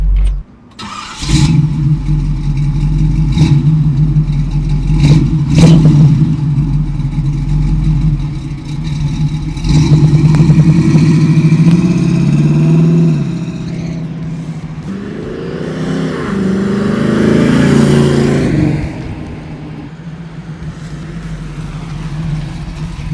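A 1967 Chevrolet Camaro V8 cranks and fires up, then settles into a loud, close, rumbling idle broken by several throaty revs that rise and fall, with no talking.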